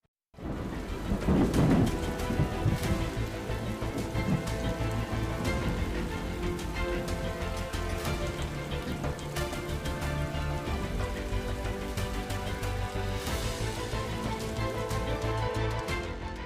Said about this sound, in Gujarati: અમરેલીથી લઈને જૂનાગઢ, રાજકોટ, જામનગર અને ગીર સોમનાથ સુધી ધોધમાર વરસાદ થયો